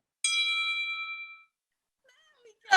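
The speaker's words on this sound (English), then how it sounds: "press the notification bell" A bright notification bell ding rings out once, sustaining clearly before decaying, followed by a short silence and then a burst of louder noise at the end.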